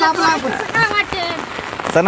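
Steady heavy rain pattering on a surface close by in a village, with people talking over it.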